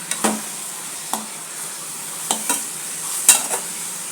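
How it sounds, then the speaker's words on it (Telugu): Leafy greens (thambalaku) being stirred in a tempering pan, with a soft background sizzle and several sharp scrapes of the spoon against the pan, spaced irregularly. "తంబాలకు తాలింపు చేస్తున్నాను."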